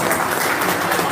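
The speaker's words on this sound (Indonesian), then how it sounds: "Tepuk tangan dulu dong yang istimewa pertama buat Bang Rocky" Crowd clapping at a political discussion event honoring a guest, a dense, loud burst of many hands applauding throughout a brief moment with no talk.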